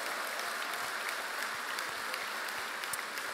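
An audience at a political conference on the right to health applauds, producing a steady, dense patter of many hands clapping at an even level without a break.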